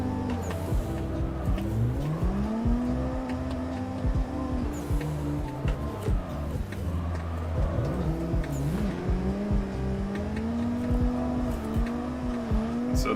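Sim racing drift game car held sideways with clutch kicks, engine notes rising and falling in long revving sweeps, tire squeal layered over a continuous loud motor drone, no talk.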